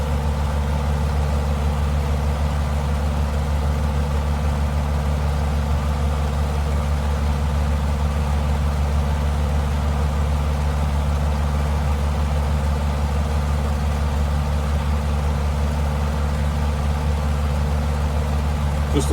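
A Tiger Moth biplane's small engine drones at a steady, loud, unchanging pitch in a flight simulator, with no pauses throughout.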